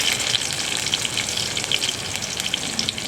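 Crushed garlic hitting hot oil in a pan for goat blood curry, with a steady loud sizzle and crackle of frying that holds throughout, with no voices.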